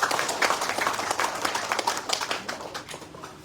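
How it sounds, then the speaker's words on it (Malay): A crowd at a Malaysian political rally claps steadily for a candidate, dense applause that stays fairly loud and then slowly thins out. "Satu tepukan dulu untuk beliau"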